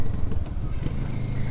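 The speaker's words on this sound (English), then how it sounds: "The engine is nice and torquey, as you'd expect from a parallel twin." A 2024 Kawasaki Vulcan S 650 with a parallel-twin engine, heard while riding: a low, rumbling, continuous engine note with wind buffeting, close and steady throughout.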